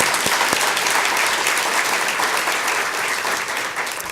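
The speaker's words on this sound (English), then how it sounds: "That's worth clapping for," Audience at an artist conversation event applauding steadily throughout, a dense wash of clapping that tapers slightly toward the end.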